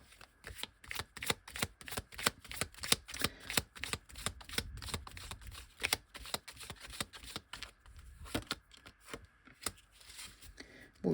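Fortune-telling cards are shuffled and laid out on a table, a steady run of quick flicking and snapping taps, close but fairly soft.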